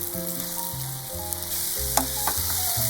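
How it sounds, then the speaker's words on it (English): Eggplant sizzles steadily as it fries in a pot, with a couple of soft clinks of a utensil against the pot. "Fry the eggplant."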